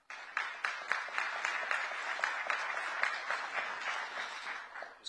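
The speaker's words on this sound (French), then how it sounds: "Applaudissez-les, s'il vous plaît." Audience applause at a multipolarity summit, a dense, steady wash of many hands clapping throughout, moderately loud and fairly close, with no speech over it.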